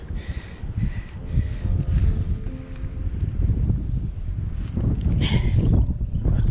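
Gusty wind buffets the microphone with a constant low rumble during urban spin fishing, steady and close throughout, with faint scattered noises in the background.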